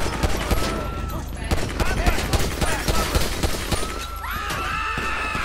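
A loud fusillade of gunfire in the game GTA V: dense volleys of shots ring out in quick succession, with voices speaking amid the shooting.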